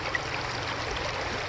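A clear water stream in Baretbet, Bagabag, Nueva Vizcaya flowing steadily, a close, continuous rushing and trickling wash with no voices.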